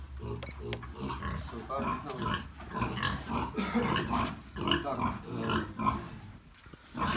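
Weaned piglets grunt and shuffle during weighing on a farm scale, a busy, low, continuous texture of grunts beneath a man's speech.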